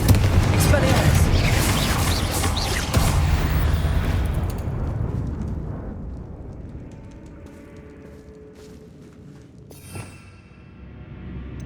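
Spell explosions in Hogwarts Legacy, loud rumbling blasts and crackling bursts at first that fade into a quieter tail, with one smaller pop near the end.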